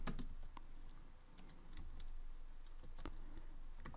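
Typing on a computer keyboard while writing Kotlin code, a steady run of quick close key clicks with scattered sharper taps, quiet and without speech.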